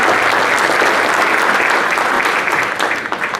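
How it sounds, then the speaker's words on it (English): Loud, close, dense applause from an audience honoring the bench at an installation of officers and awards ceremony, holding steady and then easing slightly toward the end. "I want to give them an applause"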